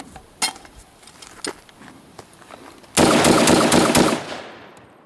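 An Ensio Firearms KAR-21 rifle fires .308 rounds in a quick burst of sharp, loud, close reports lasting about a second, after a few fainter clicks and handling noises.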